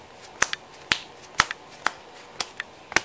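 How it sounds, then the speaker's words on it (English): A deck of cards being shuffled for the tabletop game Baseball Highlights 2045, heard as a series of sharp, crisp snaps in an irregular rhythm, close and fairly quiet. "Shuffling the deck."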